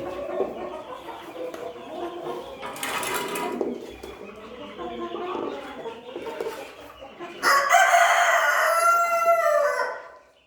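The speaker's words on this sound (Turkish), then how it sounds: "horozlarımız da ötmeye başladı arkadaşlar" Several roosters crow and cluck close by, with overlapping calls and a louder, longer crow near the end.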